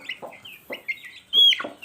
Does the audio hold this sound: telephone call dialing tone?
no